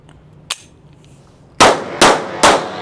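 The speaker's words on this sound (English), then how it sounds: "You literally go through 22 rounds in under 2 seconds." A Taurus TX22 .22 rifle fitted with a forced reset trigger fires sharp loud cracks: one early shot, then three rapid evenly spaced reports close together, each ringing briefly.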